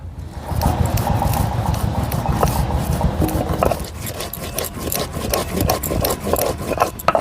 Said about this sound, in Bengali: দেখো আমি মশলাটা শিলে বেটে নিচ্ছি